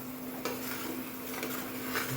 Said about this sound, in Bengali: আর মাছগুলো ভাজা করছিলাম